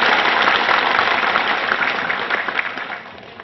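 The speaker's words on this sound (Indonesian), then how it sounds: "Tepuk tangan sekali lagi." Audience applause at an Indonesian political campaign gathering for a gubernatorial candidate, a dense, steady clapping that holds for several seconds and then thins out toward the end.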